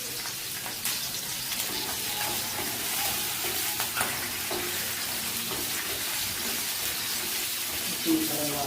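Green chillies and whole spices frying in a pan for restaurant-style paneer butter masala make a soft, steady sizzle with occasional stirring scrapes, while someone talks quietly in the background.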